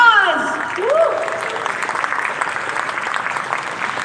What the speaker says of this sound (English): can we give Fadi a round of applause?